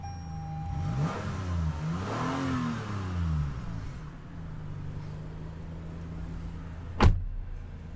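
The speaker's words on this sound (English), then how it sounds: "this V6 engine sounds amazing, and you barely touch the gas pedal and the engine just revs it very quick" A 2021 Toyota Highlander V6 engine revs up and settles in a couple of quick throttle blips, close and steady, followed by a sharp click near the end.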